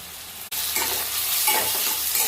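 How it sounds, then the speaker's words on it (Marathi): Spice masala with turmeric, red chilli powder and chutney roasting in a pan, a loud, close steady sizzle with scraping stir sounds and a brief dropout at the start. "टाकून चांगले हे मसाला भाजून घेणार आहोत."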